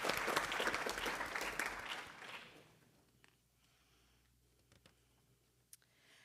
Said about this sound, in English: Let's give a round of applause to our amazing MCSD math.